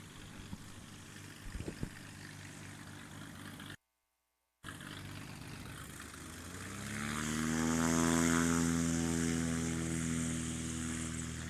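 A Cessna 182 on a short takeoff run at a competition, its propeller engine rising to a loud, steady drone after a brief gap, swelling toward full power near the end.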